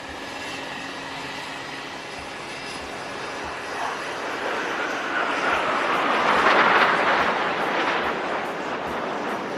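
Military aircraft flying in Victory formation at the Aero India air show, a loud sustained jet roar that swells toward the middle and stays broad and rushing throughout, with no voices.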